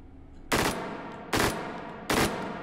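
Three sharp, loud gunshot bursts from a rifle set to 3-round burst in the VR game Hot Dogs, Horseshoes & Hand Grenades, each spaced under a second apart with quick decaying tails.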